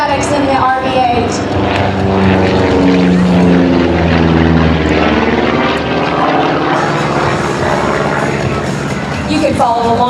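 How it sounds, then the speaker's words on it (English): An RV-8 propeller plane flying aerobatics at an air show drones overhead with a shifting pitch as it maneuvers, while a commentator talks over it throughout. "Notice how he takes that little RV-8 up into the sky and follow along with his great inverted smoke oil system."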